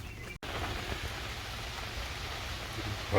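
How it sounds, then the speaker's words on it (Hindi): Heavy rain pours down steadily outdoors during a rainy-day barbecue, a dense, even hiss of drops close by with a brief dropout near the start. "बारिश तेज़ हो गई काफ़ी।"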